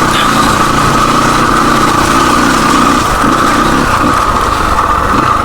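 Motorcycle engine, an RM250, droning steadily and loud with uneven throttle while riding a slippery, muddy village road in Gulmi during the monsoon.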